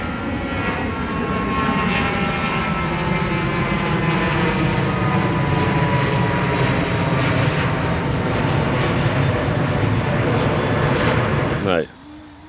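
A fixed-wing airplane passes overhead near Rotterdam Airport, its loud, steady engine roar holding for about twelve seconds before cutting off abruptly.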